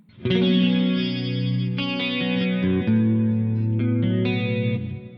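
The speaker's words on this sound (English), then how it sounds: "Let's add some reverb maybe." Distorted electric guitar chords through an Amplitube 5 Mesa Triple Rectifier amp simulator, ringing out with a wash of reverb and chorus, loud and sustained.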